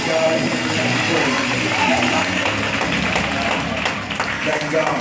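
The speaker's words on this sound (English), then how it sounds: "give God a hand clap of praise" A church congregation claps hands in praise, a dense steady wash of many hands at close range throughout, mixed with voices and background music.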